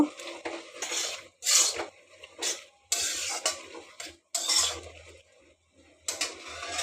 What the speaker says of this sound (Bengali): হলুদ গুঁড়ো দিয়ে একটু নাড়িয়ে নেব।